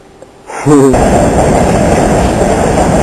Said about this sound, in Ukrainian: Так, ми чекаємо ще одну електричку.